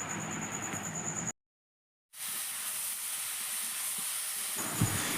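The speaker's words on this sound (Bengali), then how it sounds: "আবারও সব সবজিকে খুব ভালোভাবে নাড়াচাড়া করে নেবো একদম ভাজা ভাজা করে নিতে হবে" Pumpkin and drumstick pieces fry in a pan with a steady hissing sizzle that cuts out for a moment, then returns with faint stirring scrapes near the end.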